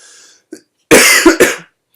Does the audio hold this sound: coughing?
yes